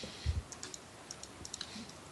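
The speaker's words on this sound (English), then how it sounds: "you're typing in chat, Cyril." Scattered keyboard typing during an online tabletop role-playing session: light, irregular clicks and taps spread across a couple of seconds, faint and close, with a soft low thump near the start and no talking.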